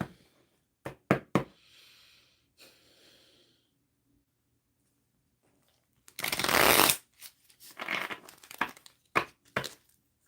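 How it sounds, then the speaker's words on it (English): A deck of cards is shuffled in quick riffling bursts, each a crisp papery flutter, separated by quiet pauses, soft handling knocks and faint breathing; no one speaks. "Let me shuffle these real good."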